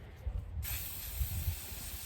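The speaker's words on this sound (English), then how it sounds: "I just do a constant spray." A spray can sprays a tumbler cup being prepped, starting after a brief pause as one constant, loud, close hiss that continues steadily to the end.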